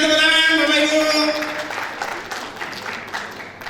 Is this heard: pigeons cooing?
no